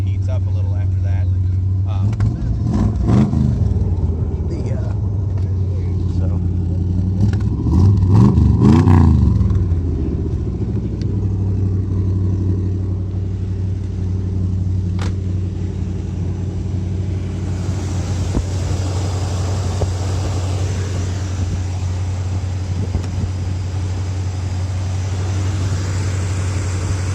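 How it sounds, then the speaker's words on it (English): A 1969 Chevrolet Corvette Stingray coupe's old motor idles steadily and close by, with two brief swells of revving early on, then settles into an even running drone. "The old motor sounds good."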